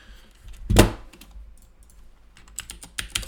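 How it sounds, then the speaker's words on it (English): Computer keyboard keys tapped in a few scattered strokes, opening with one loud thunk-like press and followed by a quicker burst of lighter clicks near the end, close and without talk. "Oh, my keyboard has been acting very weird lately,"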